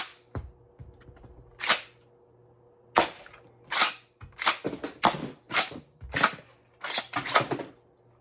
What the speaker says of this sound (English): close that up, and then fire darts and eject shells